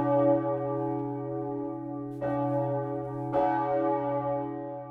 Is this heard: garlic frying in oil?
no